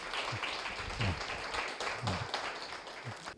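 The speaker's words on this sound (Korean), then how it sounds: "한번 박수 한번 쳐주시면 감사하겠습니다" Applause from an audience at a blockchain mainnet launch event, a steady wash of clapping throughout with a few voices mixed in underneath.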